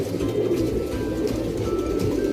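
A pair of Guldar pigeons, a female and a male, coo in a loft, with low soft cooing running steadily through the whole stretch under a hum of background noise and no talk.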